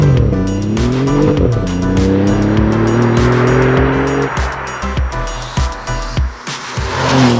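An Alfa Romeo Giulia Quadrifoglio driven hard, its engine note rising through the gears with sharp shift breaks, then a lighter, choppier stretch of throttle blips and tire noise, loud and close throughout.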